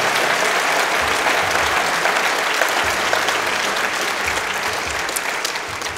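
An audience at a Social Entrepreneurs Ireland event claps steadily, a dense, sustained wash of applause filling the hall at even loudness throughout, with a voice faintly speaking beneath it.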